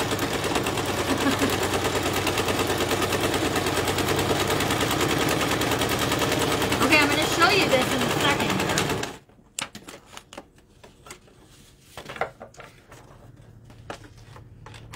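A sewing machine stitches lace along the edge of paper for a junk journal, a fast steady mechanical rattle close by that stops abruptly, followed by a few scattered clicks and handling sounds.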